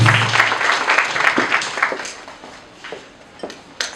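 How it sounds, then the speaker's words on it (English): A short burst of clapping from a small group at a graduation in Nairobi, loud at first, then thinning to scattered claps as it fades out. "Let's give them a round of applause"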